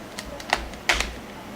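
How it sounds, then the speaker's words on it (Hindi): Keycaps are pressed back onto a computer keyboard after cleaning, giving a few sharp plastic clicks and snaps at irregular intervals, close by and clear over faint room noise. "ये क्लीन करने के बाद आप इस कीज़ को वापस बिठा लें"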